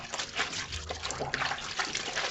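Clothing collars are rubbed together by hand in soapy water, producing a steady wet swishing and splashing that sounds close and continuous, with no talking.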